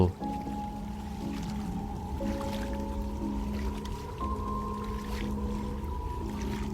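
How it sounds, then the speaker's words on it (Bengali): Small wooden rowing dinghy drawing closer across the water on a rainy-season day in rural Bengal, a steady low hum and gentle watery wash carrying on evenly, moderately faint, with no voices. "এমন সময় দূর থেকে একটা ছোট ডিঙি আমাদের দিকেই আসতে দেখা গেল।"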